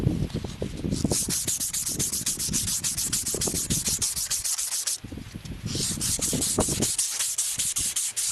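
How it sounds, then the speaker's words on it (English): Metal on a boat trailer being hand-sanded with 180 grit emery cloth gives close, rapid back-and-forth rasping strokes in a steady rhythm, with a brief pause partway through. "Give it a quick emery cloth."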